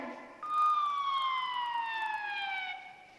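A police siren wails in a single descending tone that holds steady for about two seconds and then fades, sounding clear and moderately close with no voices over it.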